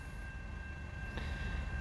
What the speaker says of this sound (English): this train is blocking the way